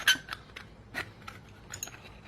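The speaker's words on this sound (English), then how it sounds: "that feels so good to cut aluminum with this epic scissors" Heavy-duty scissors cutting through aluminum sheet: several sharp, close snips and crackles, with a strong cut at the start and another around the middle, followed by lighter clipping sounds. No one speaks.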